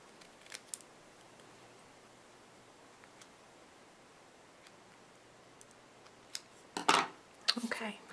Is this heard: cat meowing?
no